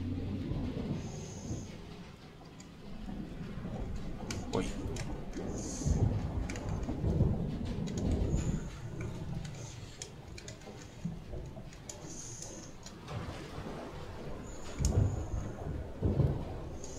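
Thunder rumbles and crackles over a stormy sea in the video game FAR: Changing Tides, with low booming swells and sharper bursts near 6, 7 and 15 seconds over steady wind and rain noise, no talking.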